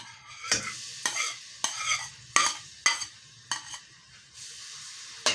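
Garlic sizzles in hot oil in a pan while a utensil stirs and scrapes in repeated strokes, each stroke bringing a brief burst of crackling.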